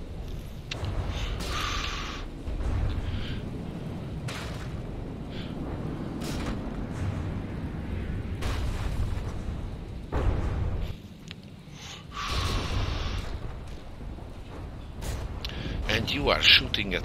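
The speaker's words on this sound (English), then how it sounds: "these explosions so far away from the body actually hurt it" Explosions in the video game Brilliant Skies go off as repeated dull booms and bursts, some distant, under steady talking commentary.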